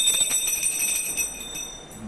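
A ritual hand bell rings during a Satyanarayan puja, a continuous bright metallic ringing with sustained high tones at moderate level.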